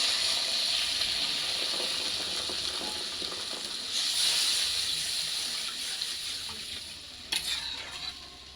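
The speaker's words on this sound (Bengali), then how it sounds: "এই জল দিয়ে দিলাম।" Water poured into a hot pan for a rohu fish curry with eggplant, spinach and lentil dumplings sets off a loud, steady hiss that swells midway, with a few sharp clicks near the end and no talking.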